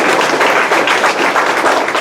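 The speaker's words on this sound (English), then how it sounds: "Round of applause for them" A banquet crowd gives a loud, dense round of applause, a continuous close-sounding wash of many hands clapping without pause for about two seconds.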